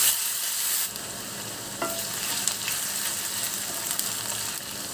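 Chopped onions and lightly fried potatoes sizzle steadily in a pan while being stirred, for a Bengali fish head chorchori; a continuous loud frying hiss with occasional scraping stir noises, no voices.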